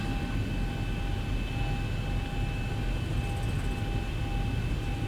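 Boeing 737 engine thrust in the X-Plane 12 flight simulator with the Zibo 737, a steady broadband roar with faint tonal whine, constant and moderately loud with no talking.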